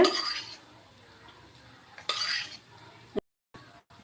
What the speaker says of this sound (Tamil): ஃப்ரை பண்ண ஹீட் ஆனோடனே கொஞ்சமாக ஆயில் போட்டுக்கோங்க